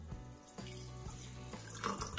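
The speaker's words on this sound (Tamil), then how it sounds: "இதுல வந்து கொஞ்சம் தண்ணி ஆட் பண்ணிக்கலாம்" Water pours into a blended juice mixture in a home kitchen, a steady, soft splashing trickle that runs throughout at low volume, close by and alone with no voices.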